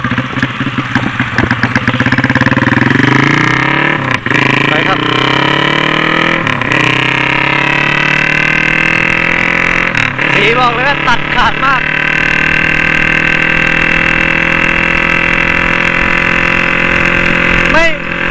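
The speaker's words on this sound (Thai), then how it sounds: "อันนี้ถือว่าวอร์มเครื่องกับเครื่องลูกนี้บ้างนะครับ" A 125cc four-valve motorcycle engine idles while warming up, a loud steady close drone with a few brief revs and dips, and someone talks over it.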